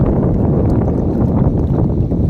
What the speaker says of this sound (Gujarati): પવન ચાલુ થઈ ગયો છે બહુ જોરદાર